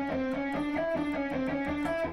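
A distorted electric guitar picks a fast, evenly rhythmic run of single notes in a Dorian lick, with a three-note fingering pattern repeating as a cycle, played alone and close.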